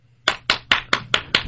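Six sharp claps in a quick, even rhythm, crisp and close, with a short pause before they start.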